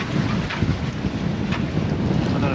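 Strong wind of around 30 knots roars and buffets the microphone on a sailboat under grey, cold skies, with a constant heavy rush and gusty thumps, no voices.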